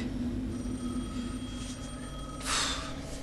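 A telephone rings in the video game Alan Wake 2, a steady electronic ring over a low droning game ambience, with a brighter burst near the end.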